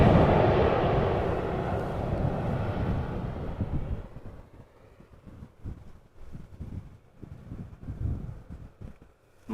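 A KLM Boeing 737-800 airliner arriving from Paris Charles de Gaulle at Amsterdam Schiphol roars loudly and close for about four seconds, then fades into a low, gusty rumble with wind buffeting the microphone.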